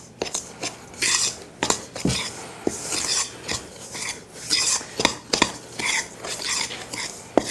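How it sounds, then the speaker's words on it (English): Dry ingredients for a gluten-free chocolate cake, including cocoa and salt, get whisked in a bowl with brisk, uneven scraping and clinking strokes against the sides, close and fairly loud, with no talking. "we're gonna just mix that all in together"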